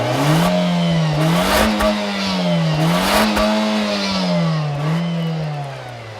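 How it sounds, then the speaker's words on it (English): A turbocharged Nissan Juke Nismo with a 1.6-litre engine, CVT and all-wheel drive accelerates hard from 0 to 60 mph, its engine drone rising and falling in a wavering pitch through the pull, loud and close with no talk. "0 to 60 in the Nismo Juke"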